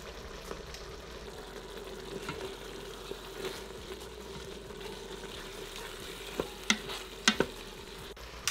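Keto chili with paprika sautés in an Instant Pot, a soft, steady sizzle with faint stirring, then a few sharp utensil clinks near the end, quiet and close, without talking.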